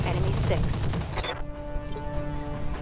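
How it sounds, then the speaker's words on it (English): Light machine guns rattling off a rapid burst in the mech combat game RogueTech, dense loud firing for about a second and a half, then cut off, leaving a fading electronic tone. "let's just rattle him a bit with the light machine guns."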